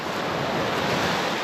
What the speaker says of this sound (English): Waking up to the waves